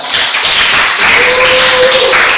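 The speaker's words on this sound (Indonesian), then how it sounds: "tepuk tangan dulu buat" Students in a classroom applauding, a steady loud wash of many hands clapping at once, continuous and close, with a faint tone running through the middle.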